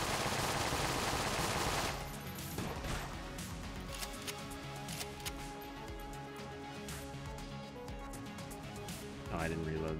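Rapid bursts of gunfire from the video game Enter the Gungeon, a dense loud barrage with crackling impacts that eases slightly after the opening seconds and swells again at the end, with a voice talking over it.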